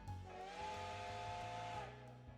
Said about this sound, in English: I hear a steam whistle out on the river and look to see a ship approaching.